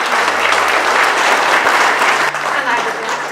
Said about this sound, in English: can we just give a round of applause to Andy and his team?